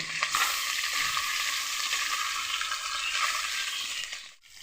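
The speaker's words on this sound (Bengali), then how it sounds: "তাই আমি বেশি তেল দিচ্ছি না, অল্প তেলেই আমি ভেজে নিচ্ছি।" Hilsa fish frying in a small amount of oil in a pan, a loud, dense, close sizzle that holds steady throughout and then drops away abruptly at the very end.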